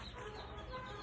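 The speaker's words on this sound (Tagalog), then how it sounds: "Yan, yung mga inahin na makukulit." Hens cluck softly on a small chicken farm, a faint, brief stretch of low clucking against quiet background with no talk.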